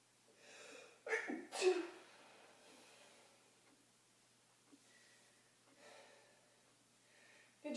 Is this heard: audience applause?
no